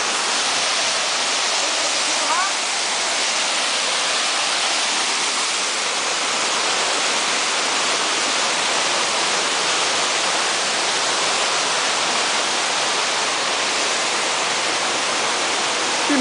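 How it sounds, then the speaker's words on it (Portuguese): A waterfall roars as a dense, unbroken wash of rushing water, loud and steady from start to finish with no pauses. "Mais uma queda."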